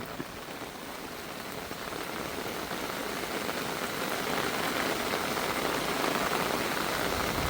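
A hard downpour, the year's first heavy rain at a country home in Thailand, drums down as a continuous, broad hiss that swells slightly louder toward the end, with no voices.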